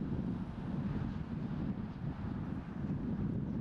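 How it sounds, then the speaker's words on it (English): Steady wind rushes across an open disc golf course, a continuous low buffeting roar against the microphone with slight gusting swells and no voices. "you can see the wind's definitely kicking"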